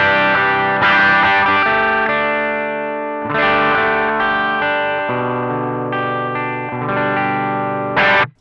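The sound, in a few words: BOSS ST-2 Power Stack pedal crunch guitar tone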